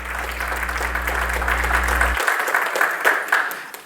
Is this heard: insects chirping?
no